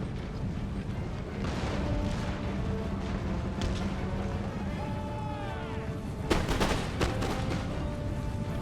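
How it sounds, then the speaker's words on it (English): Volleys of musket and cannon fire crackle and boom in the video game Empire: Total War, a dense battlefield bed of distant shots with louder cracks and crashes near the end, under game ambience. "That is quite a good rate of fire coming in then"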